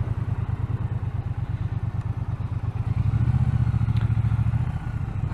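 Triumph T120 Bonneville motorcycle riding through an old town, its engine a steady, close, loud low throb with rapid regular pulsing that swells slightly mid-way, with no talking.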